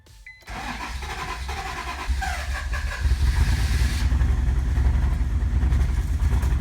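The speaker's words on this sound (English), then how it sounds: "Then the Legend slowly sputtered to life." An Acura Legend's engine sputters to life after an ECU replacement: a brief crank and catch, then the engine settles into a rough, uneven idle that steps up in loudness. It is running unevenly, not on all six cylinders.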